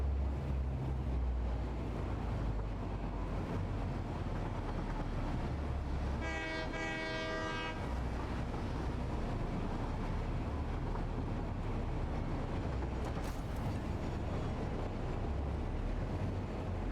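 A locomotive in the factory-building game Satisfactory rumbles steadily throughout, with a brief train horn blast in the middle over a low continuous roar.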